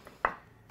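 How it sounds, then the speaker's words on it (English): A single sharp knife chop through sweet potato on a cutting board, close and crisp, with quiet room tone before and after. "proceed to finish chopping that up"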